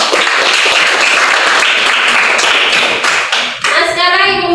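A classroom group gives a loud, dense burst of clapping that holds steadily for several seconds before cutting off into a voice speaking.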